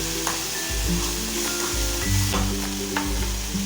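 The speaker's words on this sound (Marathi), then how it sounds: "हे आपल्याला एखादा मिनटं तेलावरती छान असं परतून घ्यायचं आहे" Garlic, chilli and ginger paste sautés in oil for a gram-flour snack, a close, steady sizzle broken by several scraping stirs of the spoon in the pan, with no voices.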